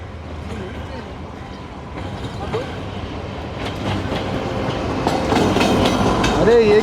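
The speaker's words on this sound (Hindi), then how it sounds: "काफ़ी स्लो आ रही है जी ट्रेन, आहिस्ता आहिस्ता अप्रोच बना रही है चनेसर पर।" The 6 Down express train rolls slowly into Chanesar halt station in Karachi. Its rumble and rail clatter grow steadily louder as it nears, while someone talks over it.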